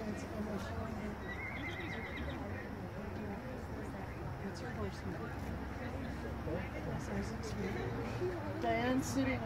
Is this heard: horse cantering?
yes